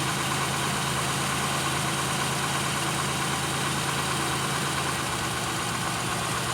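A Pontiac Aztek engine idles roughly with its cylinder 2 fuel injector disabled, a steady close-up engine drone with uneven low vibration throughout and no voices.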